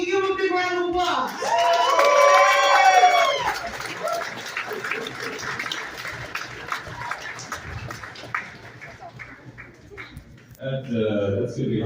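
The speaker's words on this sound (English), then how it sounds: "Give him a big round of applause." Comedy club crowd at the Funny Bone clapping, cheering and whooping as a comedian is brought on, loud at first and then thinning out, with a voice talking over it near the end.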